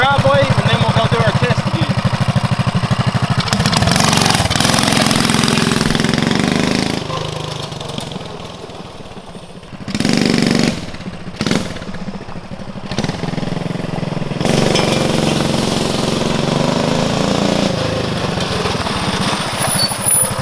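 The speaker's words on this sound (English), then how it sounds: "Okay, so we just got the kit put on. We're going to do a first start." A Coleman CT200U mini bike's small engine fired up for the first time after fitting performance parts: a loud, close, rattling roar that revs, briefly drops and sputters, then rises again to a sustained drone.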